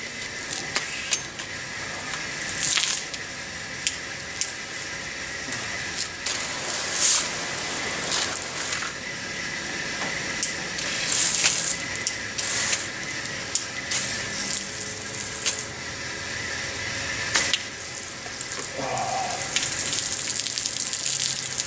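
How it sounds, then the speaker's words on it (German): A garden hose sprays water outdoors in a continuous hissing rush, with splashing bursts and shifting intensity as the spray moves, fairly close and steady throughout. "ich nehme einen normalen Wasserschlauch und spritze mich hier heraus und einfach mal schnell ab"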